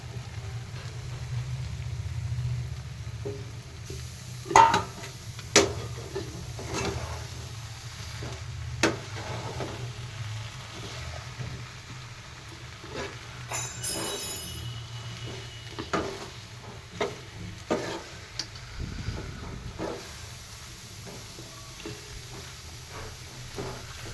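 A Maggi masala egg omelette mixture is stirred in a pan on the stove, giving soft sizzling with scattered clinks and scrapes of the utensil against the pan over a low steady hiss.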